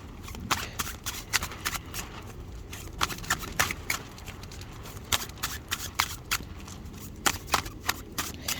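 A deck of tarot cards is shuffled by hand in quick, irregular bursts of crisp riffling and slapping, close and fairly quiet, with no talking.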